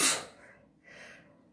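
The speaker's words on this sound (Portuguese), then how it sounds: "Eu vou espirrar." One sharp, close sneeze bursts out at the start, followed by a quieter breathy exhale and a brief sniff, with no talking.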